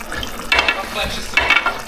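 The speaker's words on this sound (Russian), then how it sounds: "Кипит и чуть-чуть убираем огонек." Bubbling and sizzling from a pot of Georgian chicken stew (chakhokhbili) on the stove, with bursts of stirring and clinking in between.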